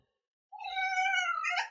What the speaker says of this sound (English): My cat is talking.